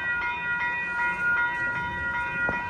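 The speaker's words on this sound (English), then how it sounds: "I can hear the brakes." A Union Pacific train near Lincoln Park, Los Angeles, slowing to a stop, with steady high-pitched brake squeal in several sustained tones and periodic clicks and thumps as the cars roll past, moderately loud and continuous.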